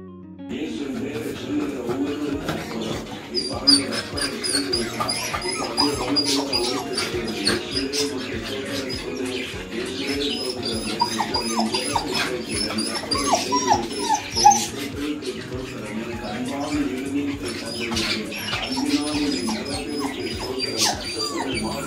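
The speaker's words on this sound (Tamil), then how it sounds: "அது வந்துட்டு பெயினில் கத்திக்கிட்டு இருக்குதுங்க. அதுக்கு வலி, அதனால தான் அந்த மாதிரி கத்திக்கிட்டு இருக்கு." A Beagle bitch in labor cries and whimpers in pain, with repeated high yelps and whines continuing steadily throughout, fairly close and loud against a busy background.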